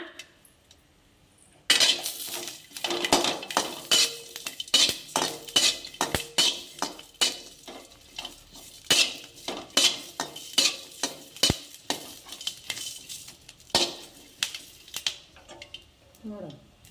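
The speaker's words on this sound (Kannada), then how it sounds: "ನೋಡ್ರಿ, ಈ ರೀತಿ ಮೆಣಸಿಕಾಯಿ ಹುರ್ಕೋಬೇಕು." Green chillies fried in oil in a pan for tomato chutney, a metal spoon rhythmically scraping and clanking against the pan over a soft sizzle, loud, close and repeated for about fifteen seconds.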